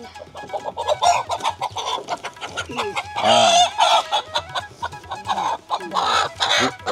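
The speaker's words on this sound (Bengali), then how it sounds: "মা এই যে মোরগ দেখো" A village rooster clucks repeatedly at close range in short, uneven bursts, with a louder squawking call partway through and other fowl stirring around it.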